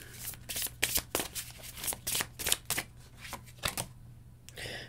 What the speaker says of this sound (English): Let's pull two more cards from the Sexual Tarot of Magic